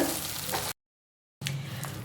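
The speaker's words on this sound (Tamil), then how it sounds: "நல்லா பொன்னிறமாக மாறுற அளவுக்கு நல்லா வதக்கி விடணும்" Steady, broadband sizzling of chopped large onions frying in a pan for a crab pepper masala, close and continuous, broken by a short silent gap before the sizzle resumes.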